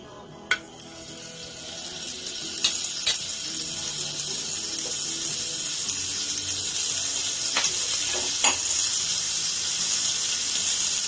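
Butter sizzles in a pan at the start of a chicken stew. A steady frying hiss builds gradually and grows louder, broken by a few sharp clicks and taps of a utensil on the pan.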